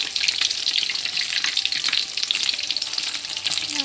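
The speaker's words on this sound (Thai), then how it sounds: "คลองข้างบ้าน เราก็จะทอด กินกับข้าวสวยร้อนๆนะคะ" Fish caught from a canal beside a house frying in hot oil, a loud, steady, close sizzle with crackling bursts and no talk.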